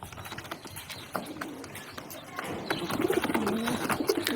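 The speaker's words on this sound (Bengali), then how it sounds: "এগুলো সত্যি কথা বলতে খুবই ছটফটে পায়রা" Restless pigeons held close by give soft, low cooing calls that swell toward the end, with faint rustling and fluttering movement underneath.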